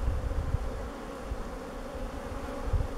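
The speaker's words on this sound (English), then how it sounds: "There's a lot of bees up here on this one." A dense, low buzzing of many honey bees swarming close by around a hive, steady and fairly quiet, with a few soft bumps of handling noise.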